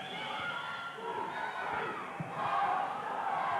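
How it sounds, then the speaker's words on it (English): A high school boys' basketball crowd in a gym roars and shouts in a continuous, slightly distant wash of voices that swells toward the end, with a couple of dull thumps. "Here you get a look at the crowds. They're making a lot of noise this evening."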